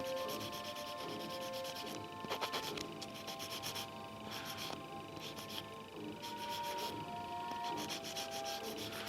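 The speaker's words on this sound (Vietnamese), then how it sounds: "Nhám qua một lớp mỏng như thế này thì đến khi đắp hoa sẽ bám chắc hơn" A nail file scrubs the surface of a fingernail before acrylic powder is applied, a quiet, close, steady rasping broken by short bursts of quicker strokes.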